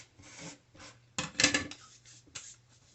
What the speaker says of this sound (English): All this grinding and sanding and...